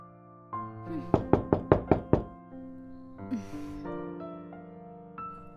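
Six quick, loud knocks rap on a door in an even burst, set against a background musical score with a whoosh effect afterward.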